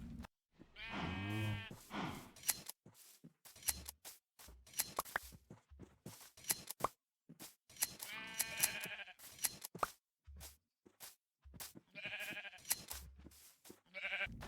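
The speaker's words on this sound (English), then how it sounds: "She's told me I can go and shear her sheep." Video-game sheep bleat in a handful of separate, fairly loud calls while being sheared, with short clicks and game sounds between them and no talking.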